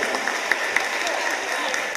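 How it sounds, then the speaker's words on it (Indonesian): A school audience at a Heroes' Day session applauds a guest, a steady close wash of clapping with a few sharper individual claps standing out, lasting a couple of seconds. "Tepuk tangan untuk teman kita yang luar biasa."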